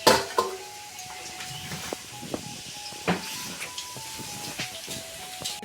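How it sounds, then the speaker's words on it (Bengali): Potatoes fry in a wok over a stove, a soft steady sizzle running beneath occasional sharp clinks and scrapes of stirring, close and moderately quiet, with no talking. "এখন কিন্তু আলুগুলো সুন্দর করে ভেজে নিয়ে"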